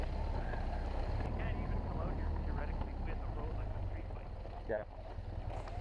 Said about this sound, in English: as you can hear from the motor, we were still climbing